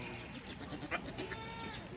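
Sheep bleating at a zoo in Qatar, a few short wavering calls at moderate distance over steady crowd and ambient noise.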